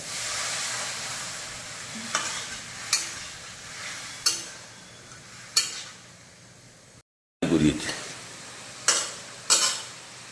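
Chicken cooked down in spices in a restaurant-style Mughlai kitchen sizzles steadily as water goes in, with regular spoon scrapes against the pan and a brief cut-out before louder hissing resumes.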